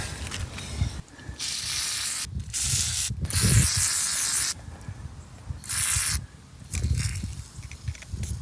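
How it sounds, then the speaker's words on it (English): Aerosol lubricant sprayed onto a part during a Porsche 914 restoration, heard as several short, close hissing bursts of spray with brief pauses and faint handling noise between them. "Gotta lube that one up good."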